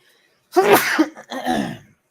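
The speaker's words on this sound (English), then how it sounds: "so you probably heard me sneeze like twice" A single close, loud human sneeze in two bursts, a sharp explosive release followed by a shorter trailing exhale, against otherwise quiet background.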